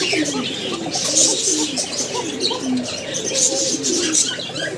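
Pair of black satin pigeons cooing nearby, with continuous throaty rolling coos and some chirps over a busy loft background, steady and moderately loud.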